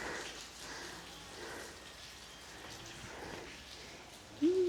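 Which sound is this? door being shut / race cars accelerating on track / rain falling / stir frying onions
rain falling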